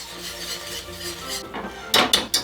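A spatula stirs flour into melted butter in a hot pot with the heat off, giving soft scraping strokes that end in a few sharper knocks and scrapes against the pot.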